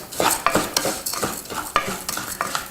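Arborio rice browning in butter in a pan over high heat, with a steady sizzle and repeated scraping strokes of a spoon stirring the grains, close and fairly loud.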